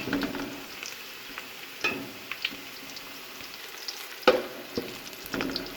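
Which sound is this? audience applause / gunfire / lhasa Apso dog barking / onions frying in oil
onions frying in oil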